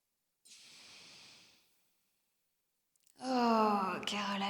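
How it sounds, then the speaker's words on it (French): Deep exhale during a yoga breathing exercise, a soft, airy breath out lasting about a second, followed after a pause by someone speaking. "On expire, on vide complètement."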